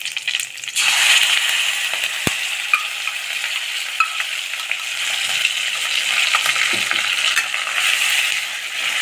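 Tomatoes hiss and sizzle in a hot pan with curry leaves for Tamil-style tomato thokku, a steady broadband frying noise that swells after a sudden onset near the start, with small clicks and scrapes throughout and no talking.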